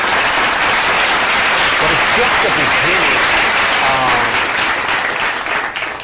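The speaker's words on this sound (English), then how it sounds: "let's say claps, claps, claps to Puerto Rico" A crowd applauds loudly and steadily, with a voice speaking over the clapping partway through. The applause fades slightly toward the end.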